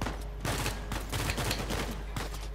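A strong weapon in the Uncharted 4 video game fires a rapid burst of repeated shots, fairly close and punchy, with no talk over it.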